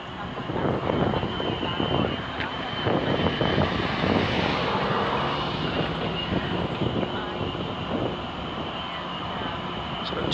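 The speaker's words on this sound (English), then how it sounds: "we got 246 CP train coming down the line." A CP freight train with two locomotives approaches along the line at Old Guelph Road in Dundas, Ontario, a steady loud engine rumble and roar building over wind noise for the whole stretch.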